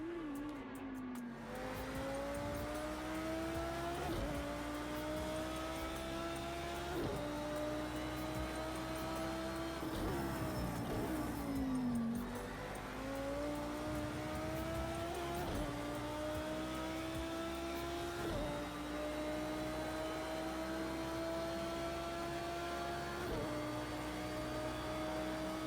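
GT3 race car engine in Project Cars 2 at Bathurst, powering uphill: a steady, droning in-car engine note climbs in pitch through each gear, then drops at every upshift in a repeating cycle, with no talk over it.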